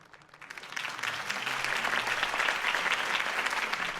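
Applause from a political rally crowd in the Batman Telltale Series video game, heard as dense, fairly quiet clapping that swells in within the first second and then holds steady.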